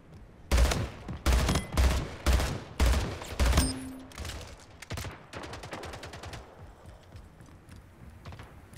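Battle rifle fire in the arena shooter SplitGate, several loud, evenly spaced bursts of shots in the first four seconds, then a quicker run of fainter shots fading out, with no talk.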